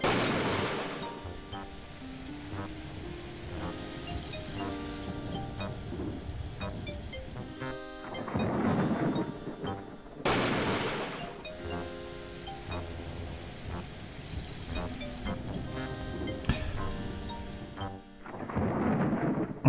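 Rain pours steadily in the Discworld adventure game while deep rumbles of thunder roll in at intervals, with sharp crackling bursts punctuating the downpour.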